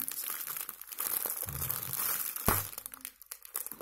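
A plastic packet of edible worms torn open by hand, close crinkling and crackling with a sharp rip midway, followed by quieter rustling.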